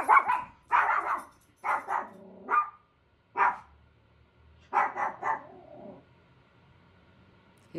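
A dog barks repeatedly at close range, with several quick bursts of sharp barks separated by short pauses and a final bark at the very end.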